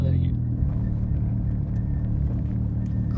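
A Porsche GT3 RS engine idles with the clutch in, a low, steady rumble throughout alongside a fault noise, close and continuous, with no change in pitch.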